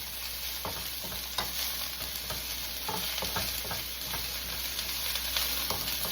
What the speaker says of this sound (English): We're going to get a nice brown on these broccolis.